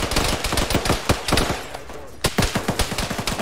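Rapid automatic gunfire in the military video game Arma, played by a ShackTac squad: dense, loud bursts of close shots crackling in quick succession, broken by a brief pause before another volley.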